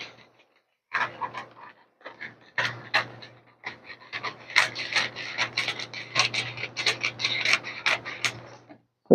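Scissors cut fabric along the back armhole of a simple dartless, zipless dress, giving a quick run of crisp, close snips and rasps that grow denser and more regular as the cutting goes on.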